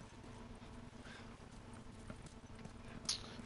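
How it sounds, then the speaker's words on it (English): Horse hooves in The Last of Us Remastered, a faint steady clip-clop of a horse moving under game ambience, with a brief brighter rustle near the end. "We're leaving the horse."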